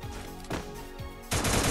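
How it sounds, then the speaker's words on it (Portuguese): Gunfire in the Free Fire mobile battle royale game, a few sharp shots in quick succession followed by a louder burst, close and punchy over a constant game background hum. "Dois tiros"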